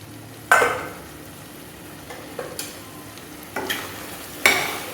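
A spoon stirs mutton cooking with gongura in a pot, giving a few loud scraping strokes spaced over a few seconds above a soft, steady sizzle, close by.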